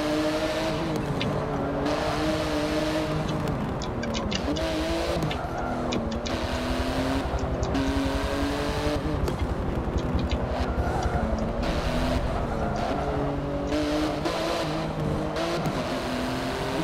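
Race cars in Forza Motorsport 7 roar and rev continuously, engines rising and falling through gear changes as they race closely together, loud and near throughout with occasional tire noise.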